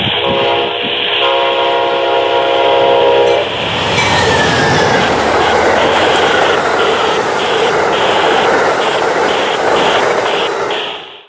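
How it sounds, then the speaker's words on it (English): Amtrak passenger train of eight cars pulled by a single P42DC Genesis locomotive speeding through Suffolk, Virginia: a loud sustained horn blast, then a roaring rush of wheels and rail noise with a ringing bell that persists until it fades. "Amtrak 94 speeding through Suffolk with Amtrak P42DC number 73 in command"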